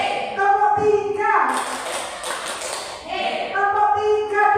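Palms clapping in a group counting game, a brief cluster of claps rising between loud chanted voices, with children and adults calling along.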